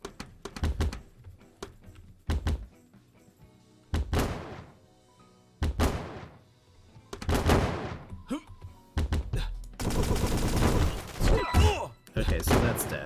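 Defensive turrets in the game Toaster Defense fire in sharp, thudding volleys, with scattered single shots early on and a dense, sustained barrage toward the end, no talking.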